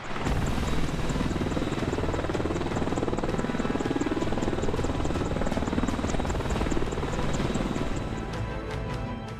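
An Apache AH-64 attack helicopter of the Indian Army runs with a loud, steady rotor roar and rapid rhythmic blade chop throughout, close by and alone without voices.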